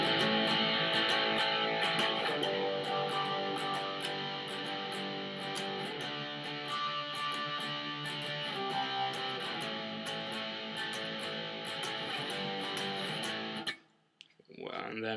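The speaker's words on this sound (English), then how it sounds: "You just keep strumming, so it sounds like this." Electric guitar chorus from a song, strummed continuously with steady up and down strokes at moderate volume, then stopping abruptly near the end.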